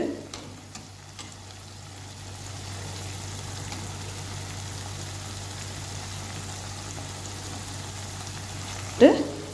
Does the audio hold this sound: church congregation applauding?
no